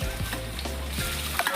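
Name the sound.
ginger and garlic frying in oil in a kadai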